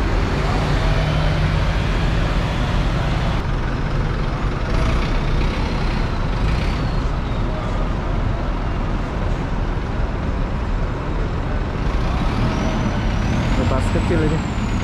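Buses at the Larkin bus terminal in Johor at night: a steady, loud wash of idling diesel engines and traffic rumble fills the whole stretch, with brief squeals and hisses like air brakes near the end.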